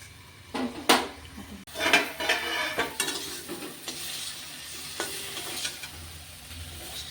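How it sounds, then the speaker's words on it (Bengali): Malabar spinach leaves are stirred in a pan with a few brisk scraping strokes and utensil clinks over a soft frying sizzle, followed by lighter clatter as a lid is set on. "পাতাগুলো ভালোভাবে নেড়ে চেড়ে আমি এখন আবার ঢাকনা লাগিয়ে দিচ্ছি।"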